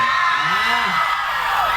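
A crowd at a hospital's 60th anniversary concert in Kanchanaburi screams and whoops loudly in a sustained roar, with a voice talking over it.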